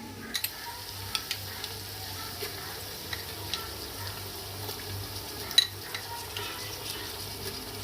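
Faint frying in a pan as garlic, ginger and ground green chili go in for chicken kofta biryani, with a quiet sizzle under scattered light clicks and scrapes of a spoon against metal.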